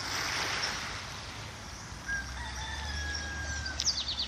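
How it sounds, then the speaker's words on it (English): Birds at St. Peter's Bay: a rooster crows loudly up close and gives a drawn-out cock-a-doodle-doo, with chicken clucks and other chirps around it and no one talking. "There are some birdies."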